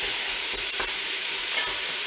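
Hamburger beef browns in a soup pot with a loud, steady hiss of sizzling and faint stirring touches.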